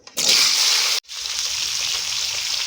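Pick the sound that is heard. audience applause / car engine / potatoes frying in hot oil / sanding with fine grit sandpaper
potatoes frying in hot oil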